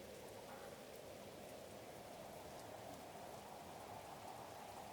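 Steady rain ambience plays during an online Pathfinder tabletop session, a dense and even hiss of falling drops heard quietly and alone, with no talk and no change in intensity.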